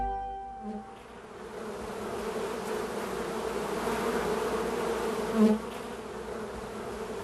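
Dense, steady buzzing of many honey bees close by, swelling slightly with a brief louder burst near the end.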